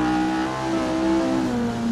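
A Ford Capri RS3 racing engine in the video game Assetto Corsa at the Hermanos Rodríguez circuit revs hard and steady, its pitch shifting slightly as it holds a loud, close growl.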